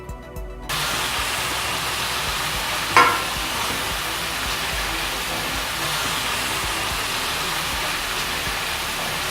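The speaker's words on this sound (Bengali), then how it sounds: "তেলটা গরম হয়ে গেলে আমি এখানে কিছু কিছু করে চিপস দিয়ে দেব।" Sliced potato chips deep fry in hot oil over a medium gas flame, giving a steady broadband sizzle with a single sharp clatter around the third second.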